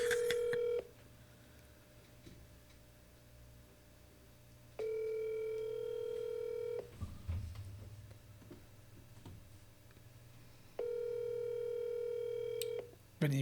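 A phone call rings out over a quiet line during a podcast. Three long, even bursts of ringing tone sound about every six seconds, with faint rustling in the pauses between them.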